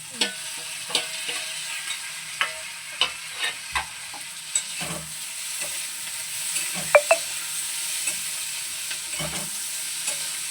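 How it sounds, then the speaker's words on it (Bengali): Ginger and tomato going into softened, lightly browned onions in a pan for buttery prawn pulao, a continuous sizzle broken by repeated close scraping strokes of a spoon stirring at an irregular rhythm. "তখন আমি এর মধ্যে দিয়ে দেবো এই আদা আর টমেটো একই সাথে দিয়ে দেবো"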